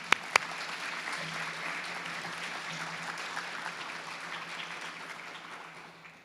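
An audience at an event thanking State Farm claps in a sustained round of applause, moderately distant, fading gradually toward the end.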